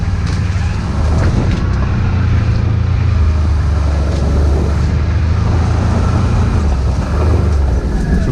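An ATV rolls through a two-year-old clear cut full of young growth, dead stumps and hidden trees, its engine giving a steady, loud, close drone that holds for the whole stretch with no speech.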